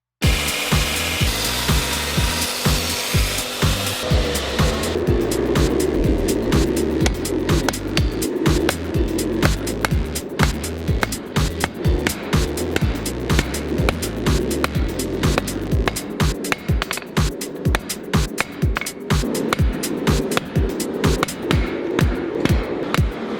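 A power grinder grinds a crack out of a stainless damascus steel knife blank, a loud close rasping drone that shifts into rapid rhythmic scraping pulses as the work is pressed against it.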